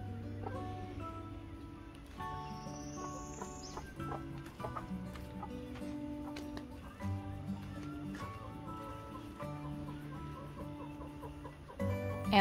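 Chickens clucking softly in a backyard coop built from reclaimed wood, scattered low clucks and calls over a few seconds with quiet farmyard ambience and no talking.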